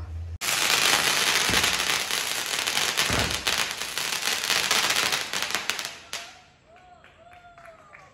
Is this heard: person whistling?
no